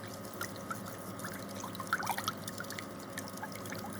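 Whey poured into a bowl and stirred for curd-filled dumpling dough, a soft close trickle and liquid slosh with faint clinks of stirring, quiet and steady with no talk.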